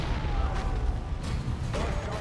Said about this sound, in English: let's help our guy out here and drop a frag grenade